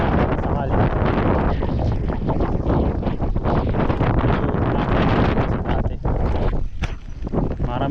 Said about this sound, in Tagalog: Dito malakas masyado yung hangin